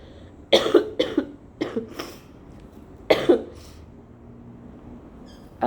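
A person coughing after using an e-cigarette: two close bursts of several harsh, loud coughs separated by a short pause, near and clear against a quiet room.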